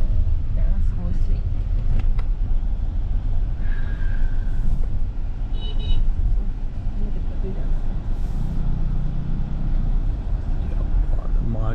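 A car pulls out of a supermarket in Jalandhar into traffic, giving a steady, loud low rumble of engine and road noise throughout, with faint muffled voices in the cabin.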